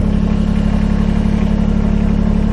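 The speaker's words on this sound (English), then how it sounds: "Start up the tractor." A Kubota BX23S compact tractor fitted with an LA340 loader runs with a steady, close diesel engine drone and an even low throb, loud and unbroken.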